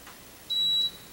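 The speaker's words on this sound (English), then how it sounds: "Well, it beeped." A single steady electronic beep from a MrCool DIY mini split air conditioner running on solar power, short and clear, rising out of a quiet background.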